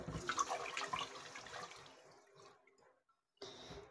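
Pork for sinigang rinsed under running clean water, a steady splashing wash that fades toward the end, breaks into near silence for a moment, then resumes briefly.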